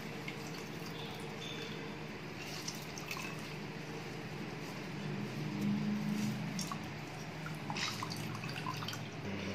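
Water drips and trickles faintly from a cloth squeezed tightly around freshly made paneer, with a low continuous wet patter and a slightly fuller run of dripping midway.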